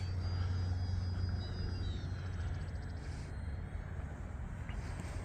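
E-flite Valiant radio-controlled airplane performing a touch and go at a model aviation field, a steady electric motor drone with low rumble heard from a moderate distance, fading slightly midway, no talking.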